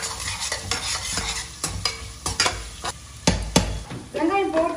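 Onions sautéing in oil for wedding-style biryani rice, a close crackling sizzle broken by repeated loud spoon strokes scraping and clanking on the pan, no voices.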